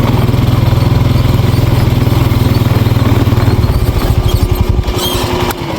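A four-wheeler ATV engine idling close by with a steady rapid throb, then roughening and stuttering to a stop as it shuts off.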